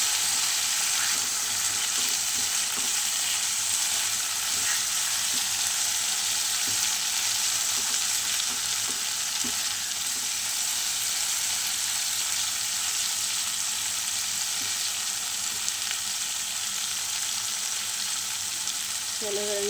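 Spice paste for a pangas fish curry sizzles and fries steadily in hot oil, a constant close crackling hiss with faint stirring scrapes, heard alone without talk.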